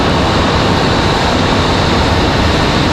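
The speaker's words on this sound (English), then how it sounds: "Hopefully you can hear all of the planes starting." Airplanes at Raleigh Durham International Airport, heard as a steady, loud broadband roar of jet engines spooling up, constant and unbroken throughout with no voices.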